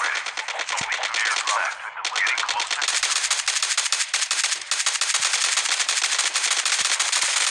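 Oden assault rifle from Call of Duty firing loud, rapid sustained automatic bursts, the rattling shots running almost continuously with a brief break near the start, dense and close.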